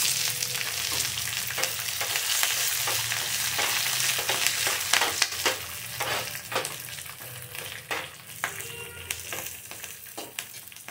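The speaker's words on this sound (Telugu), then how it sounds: "సో ఇప్పుడు ఎండుమిర్చి వేస్తున్నాను వెంటనే పచ్చిమిర్చి కూడా వేసేసాను" Dried red and green chilies sizzle in hot oil, a continuous crackling fry with sharp spattering pops and occasional stirring scrapes, heard close and alone.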